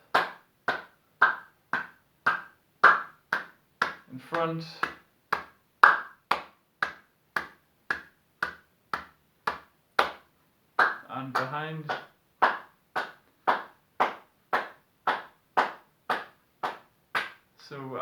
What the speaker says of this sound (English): let's clap 10 times